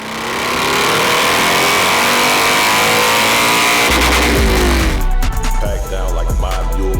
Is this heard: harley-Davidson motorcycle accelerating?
yes